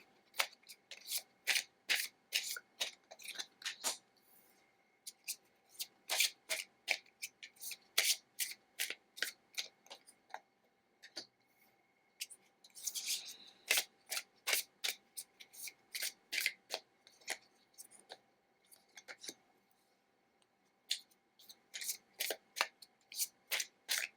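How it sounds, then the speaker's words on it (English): Tarot cards shuffled by hand, nearby and crisp, in repeated quick riffling bursts with brief pauses between runs, no voice over them. "I'm just going to shuffle them and see what comes through about your future children today"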